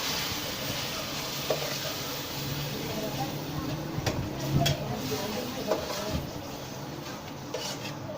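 Tomatoes, onions and a splash of water are stirred in a pan for a yogurt masala mutton dish. A soft sizzle runs underneath while a spoon scrapes and knocks against the pan, and a voice talks over it.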